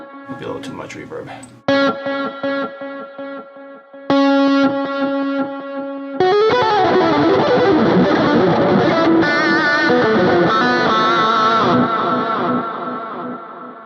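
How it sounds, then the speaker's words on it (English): An electric guitar played through the Neural DSP Archetype Plini plugin, with a solo drenched in delay and far too much reverb. Sustained, ringing notes smear into a dense, wet wash that swells louder and thicker midway. "Maybe a little too much reverb."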